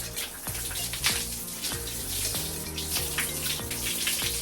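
Water runs steadily while shampoo is rinsed out of wavy hair, a continuous close splashing gush with small irregular spatters and no talking.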